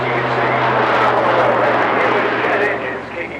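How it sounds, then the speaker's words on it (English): Rich Goodwin's Jet Pitts, an aerobatic biplane fitted with jet engines, roaring loudly and steadily overhead at the English Riviera Airshow 2024, with a commentator talking over the engine noise. "jet engines kicking in now"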